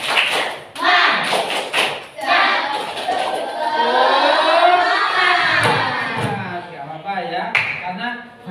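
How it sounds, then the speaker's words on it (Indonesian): A grade 5 class performs a rhythmic spirit clap, sharp patterned claps and thumps mixed with children loudly chanting and shouting along in unison, close and energetic throughout. "Tepuk semangat."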